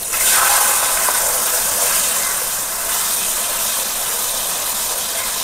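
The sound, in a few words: ground paste poured into hot pan, sizzling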